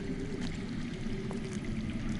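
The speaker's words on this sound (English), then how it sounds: "I hear water. From underground." Water flows underground in a Game of Thrones video game, heard as a steady, even wash with a low rumbling stream that continues without a break and sits at a soft level.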